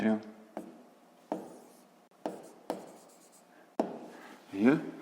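A pen writes out a math solution on paper in short scratchy bursts, about six separate strokes over several seconds, close and fairly quiet, with a voice speaking lightly in the background.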